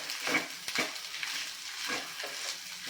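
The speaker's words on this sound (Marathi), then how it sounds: "आता हे परत एकदा आपण छान मिक्स करून घेऊया" Leftover rice for phodnicha bhat being stirred and mixed in a pan: a series of soft scrapes and spoon clatters at an uneven rhythm over a light background sizzle, fairly close and moderately loud.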